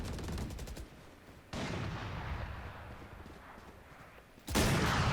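Gunfire in the video game VALORANT, sharp bursts of shots at the start and a loud shot near the end, separated by quieter stretches of background game noise.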